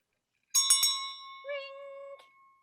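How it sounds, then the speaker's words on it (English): A notification bell sound effect in a podcast outro rings out as a couple of bright, quick chimes followed by a sustained ringing tone that fades, clear and alone without talk. "The notification bell."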